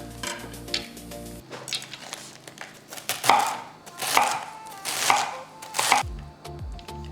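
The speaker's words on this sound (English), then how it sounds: "let's get to chopping. First up, our romaine lettuce." A knife chops through crisp romaine lettuce on a board, a few steady, close thuds with rustling leaves between cuts, no talking.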